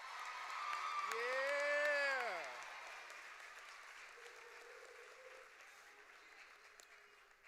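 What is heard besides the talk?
graduation audience applauding the class of 2026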